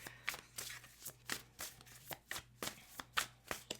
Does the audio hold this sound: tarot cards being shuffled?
yes